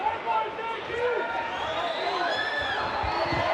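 An MMA crowd cheering and murmuring during a triangle choke attempt, steady arena noise heard beneath a commentator's voice.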